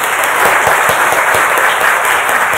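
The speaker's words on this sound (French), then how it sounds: "Est-ce que nous pouvons applaudir pour Endocare?" An audience claps in a steady, dense burst of applause, loud and close throughout, with no talking over it.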